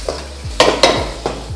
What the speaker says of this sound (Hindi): अब मैं इसको करूँगा स्टिर फ्राई